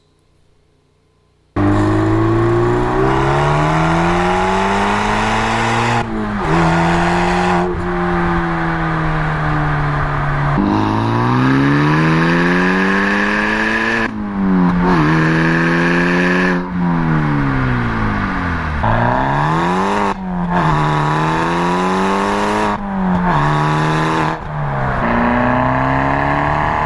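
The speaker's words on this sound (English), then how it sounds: "what you just heard there is some aggressive driving with the 4 muffler combinations that make the cut." A turbocharged 2016 Mazda Miata (ND) engine revs hard and repeatedly under aggressive driving, pitch climbing and dropping through gear changes, loud and close, with a deep rumbling aftermarket muffler exhaust throughout.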